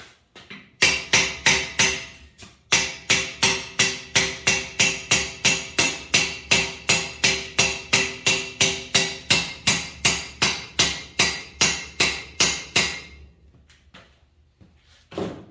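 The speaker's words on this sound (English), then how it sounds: "I got a brass hammer that should" A brass hammer strikes metal over and over in a quick, steady rhythm, each blow ringing bright and close, then the pounding stops, during maintenance of hay equipment.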